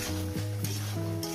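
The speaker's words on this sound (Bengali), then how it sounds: "দিয়ে দেবো টমেটো। এবার এটাকে আমি আরো কষবো।" Okra and poppy-seed curry with tomato sizzles steadily as it is sautéed in a pan over medium heat, with a continuous close frying hiss and brief scraping stirs.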